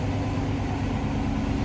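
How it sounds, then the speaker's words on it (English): A 1958 Chevrolet Impala with a 348 Tri-Power engine idles at raised speed, giving a steady, dense low rumble that carries without a break through the short clip. "So I'm going to have the high idle on just a little bit."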